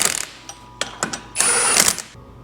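Screws being tightened on a hub puller fitted to a BMW E30 hub, a few sharp metallic clicks followed by a longer grinding ratchet-like rasp, close and fairly loud.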